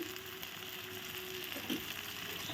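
Spice masala sautéing in a pan gives off a soft, steady sizzle with faint stirring. The sound stays low and constant, and a brief knock comes at the very end.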